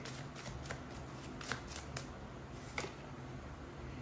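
Tarot cards being shuffled by hand: soft, close riffling and flicking of cards in quick repeated bursts at a low level, with a faint steady background hiss and no speech.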